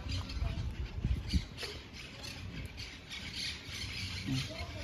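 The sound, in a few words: birds calling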